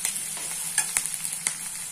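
Coarsely crushed garlic fried and stirred in a pan for kanda poha, a constant close sizzle with a few sharp clicks of the spoon against the pan, no voices.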